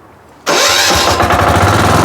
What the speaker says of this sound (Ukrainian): Запускаю надійний двигун від виробника Вейма на мотоблокі Моторсіч 9DE.